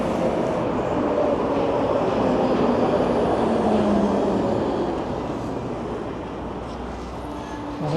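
A Budapest tram rumbles past in cold weather, a steady broadband roar with faint wheel squeal that holds for several seconds, then eases slightly toward the end.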